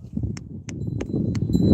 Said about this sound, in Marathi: तो एक बैल भाग रहा है